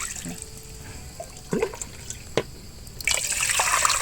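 Water is poured into a pot of Thai braised pork seasoned with five-spice powder, starting as faint drips and clinks and then swelling into a louder, continuous splashing pour near the end, with no talking.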